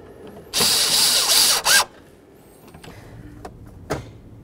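A power tool drives screws into a tail light on a 1992-2000 Chevy Tahoe, one loud whirring burst of about a second, then a short second burst, followed by faint clicks and a brief knock.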